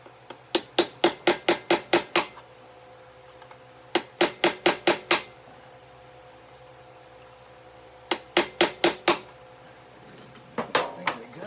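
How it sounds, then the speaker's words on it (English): Metal punch struck with a hammer against a thread-locked bolt on a Tusk pannier rack of a 2020 KTM 790 Adventure R, sharp ringing blows in quick bursts of six or seven, repeated three times with pauses between. "you hit that with a punch along the edge, and a couple of hits and it'll break that the tightening bond"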